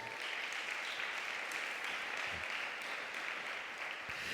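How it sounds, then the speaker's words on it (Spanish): A church congregation applauds in continuous, dense clapping that holds steady and fairly loud throughout, with no break. "Dale un aplauso a Jesús."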